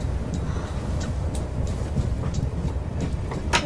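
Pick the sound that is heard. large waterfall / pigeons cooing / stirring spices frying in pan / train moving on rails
train moving on rails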